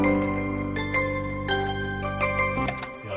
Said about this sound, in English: I kind of had all the bell layers in different positions